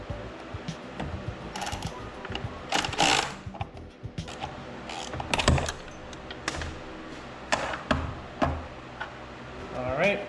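Ratchet clicking as it loosens 8mm bolts on the ignition cover of a BMW E38 V12, with short bursts of fast mechanical clicks and clanks at close range, separated by pauses and light handling noise.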